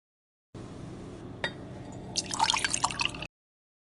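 Water is poured from a glass into a cooking pot for Telangana-style bagara rice, a soft splash building into brief louder trickles and clinks, faint and close.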